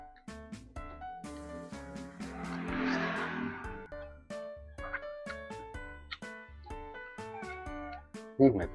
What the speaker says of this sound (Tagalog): May pusa pa, oh.